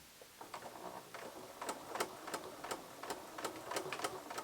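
A home sewing machine stitches the corner of a striped tunic top at its slit opening, giving a quiet run of rapid mechanical ticks and clatters in short bursts, close up, with no talking.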